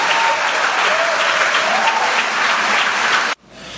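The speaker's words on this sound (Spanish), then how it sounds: "Denle un aplauso al Espíritu Santo" Loud, dense applause from a large audience at a Pentecost vigil, steady clapping that continues for several seconds before cutting off abruptly near the end.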